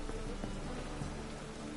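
Steady rainfall in the video game The Witcher 3: Wild Hunt hisses evenly, a dense wash of drops with no other sounds, fairly quiet and brief.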